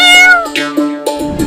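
Cartoon cat meowing, a loud, close, drawn-out meow followed by several shorter meows in quick succession, heard alone without talk.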